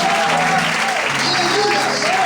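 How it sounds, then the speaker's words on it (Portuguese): Church congregation applauding together during a sermon, a loud continuous roar of clapping hands while a preacher's voice calls out over it. "Se você crê, aplaude e exalte ao Senhor essa noite."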